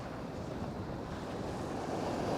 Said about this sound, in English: The wind is wicked. It's a westerly cutting across here, raining.